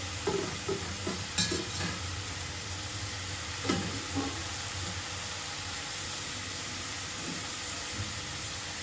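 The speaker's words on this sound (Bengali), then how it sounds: "আমি একটু নাড়াচাড়া করে দিচ্ছি সবজিটা" Snake gourd being stirred in a pan: a few quiet scrapes and clinks in the first seconds, then a faint, steady sizzle that continues mostly undisturbed.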